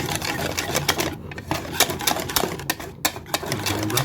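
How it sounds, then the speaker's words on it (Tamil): A mixie mixer grinder whirs while blending jalebi batter with a little water. It gives a loud, close, continuous motorized rattle with rapid pulsing, steady from start to finish. "இந்த மாதிரி மிக்ஸி வச்சு நல்லா அடிச்சுக்கணும்"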